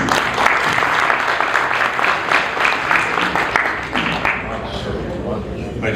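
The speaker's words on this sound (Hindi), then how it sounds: "मजीद भाई के लिए भरपूर तालियां।" An audience at a Houston Urdu poetry book-launch evening gives a warm round of applause, a dense, steady clatter of many hands that tapers off near the end, with a voice faintly audible beneath.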